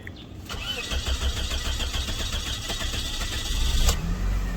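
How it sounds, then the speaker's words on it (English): A car engine cranks and catches, then settles into a steady mid-pitched idle with a brief surge near the end, heard close up with no talking. "Then we start up the car."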